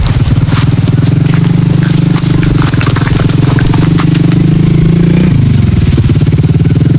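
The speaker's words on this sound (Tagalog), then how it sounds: "Motor talaga guys." A motorcycle engine runs loud and close, a steady throbbing rumble that holds its pitch, then drops sharply near the end as the bike moves past and away.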